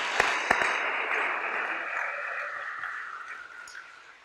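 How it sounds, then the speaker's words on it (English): Clapping fills the room at a technology center ribbon cutting, opening with two sharp close claps before settling into steady, dense applause from the audience that slowly fades. "let's give a round of applause for those 4 or 5 people"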